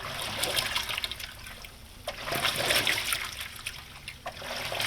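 Water fills a Speed Queen TR5003WN top-load washing machine, a continuous splashing trickle with surges and slight sloshing, close up and steady.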